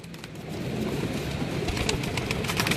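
Racing pigeons from a pigeon club's championship loft coo in a steady, close, fairly loud chorus, with no voices over the sound.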